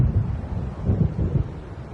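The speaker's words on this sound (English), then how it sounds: "It seems there's a storm coming." An approaching thunderstorm in the video game Alan Wake: low rolling rumbles of thunder with a windy wash behind them, moderately loud and with no talking.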